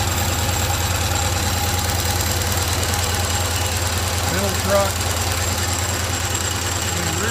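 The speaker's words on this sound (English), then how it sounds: "I've got the engine running on air now." A three-truck model Shay locomotive on a stand runs on compressed air, giving a steady, rapid mechanical chuffing and knocking beat with a faint whine above. Someone speaks briefly over it.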